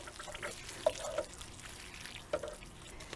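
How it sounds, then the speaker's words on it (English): Water is poured onto a newly planted tomato plant mulched with straw and tied to a stake, with a few soft splashes and drips against a quiet background. "Give it a little bit of water."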